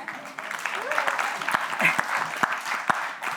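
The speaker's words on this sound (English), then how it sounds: "I'd like you to give Boaz a big round of applause" Audience applause for Boaz during a telling of Ruth, moderate clapping with a few sharper individual claps standing out and voices talking over it.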